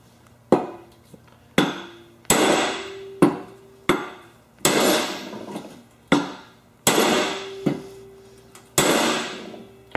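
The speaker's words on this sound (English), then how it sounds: "So now I'm gonna whack right here and here." A hammer strikes the steel of a bent lawn mower deck in a series of loud, ringing metallic whacks at irregular intervals, each close blow trailing off in a brief metal ring.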